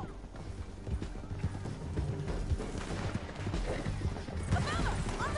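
Horse hooves clatter in a steady galloping rhythm in Red Dead Redemption 2 amid a busy, noisy game soundscape with rumbling and clashing effects.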